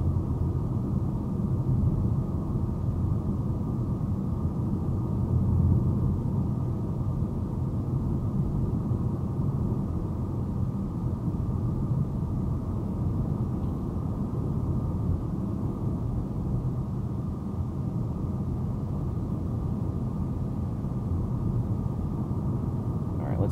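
2024 Chevrolet Trax 1RS with a turbo three-cylinder engine climbing a steep hill, a steady low cabin rumble of engine and road noise that holds constant from start to end.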